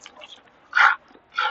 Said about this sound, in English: one of my puppies